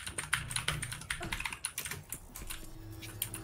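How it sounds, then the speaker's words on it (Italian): Fast typing on a computer keyboard during a live gaming stream, a busy clatter of close, clicky keystrokes in irregular bursts with a brief pause, no talk over it. "Sentirete un botto di casino dalla mia tastiera."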